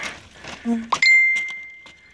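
Phone notification chime, a bright single ding ringing out and slowly fading, heard outdoors right after a short bit of speech.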